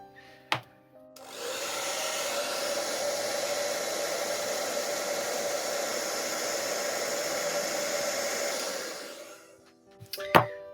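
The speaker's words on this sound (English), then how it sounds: "we're gonna try to warm up the head with the hairdryer" A hair dryer runs steadily for about eight seconds, warming a custom doll's head, a loud even whoosh that starts and stops cleanly with a couple of small knocks before and after.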